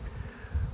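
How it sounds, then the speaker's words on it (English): Bees buzzing around a hive box in a yard, a low steady drone with soft swells, fairly close and continuous through a short stretch. "Watch it be my bees."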